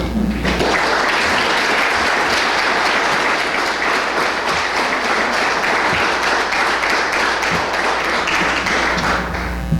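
A Rotary club audience in Starkville applauds to welcome a speaker, steady dense clapping that stays loud and close throughout with no break.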